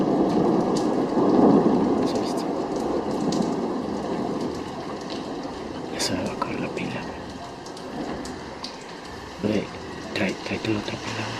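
Heavy rain pours down during a lightning storm in a Mexican town, with rumbling thunder swelling early and sharper cracks and drips later, loud and close throughout.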